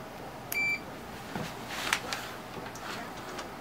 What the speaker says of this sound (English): let's just test for continuity